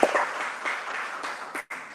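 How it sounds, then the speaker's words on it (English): Brief applause from a live audience at a community forum for a U.S. Senate candidate, a short burst of clapping that fades out quickly. "Let's give him a round of applause"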